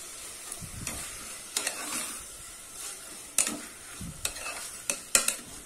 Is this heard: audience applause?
no